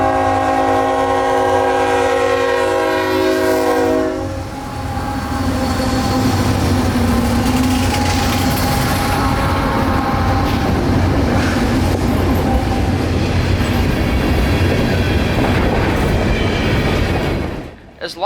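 A freight train rumbles past up close in Florida, opening with a long multi-tone horn blast, then continuous rolling clatter of wagons until it cuts off.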